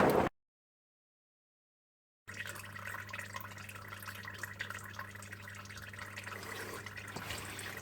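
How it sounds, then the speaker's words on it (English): Engine oil draining from the sump of a Ford Ranger T6 PX2, a steady trickling pour into a container with a faint low hum underneath, following a short stretch of near silence. "we're just going to let that drain for probably about 2 to 3 minutes"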